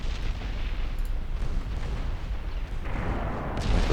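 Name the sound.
battleship main guns firing AP shells, video game Ultimate Admiral Dreadnoughts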